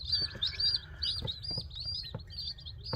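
Baby chicks chirp continuously in high, rapid peeps, several birds overlapping close by, with soft scuffling and thumps underneath.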